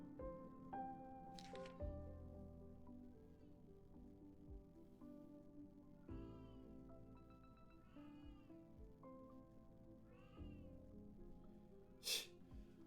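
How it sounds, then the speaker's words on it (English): A house cat meows loudly several times, with drawn-out yowling calls spaced a few seconds apart over faint game music and occasional thumps. "One second, cat's yelling at me."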